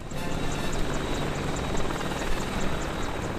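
Apache attack helicopter flying with steady, loud rotor and engine drone, continuous and close throughout with a faint rhythmic blade chop.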